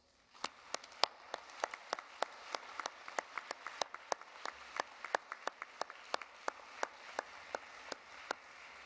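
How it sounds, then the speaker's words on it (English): Sparse, scattered hand claps from a small audience at a university graduation ceremony for psychology and social work graduates, sharp individual claps steady throughout in a quiet hall, with no one speaking. "I invite you to show your appreciation with a round of applause"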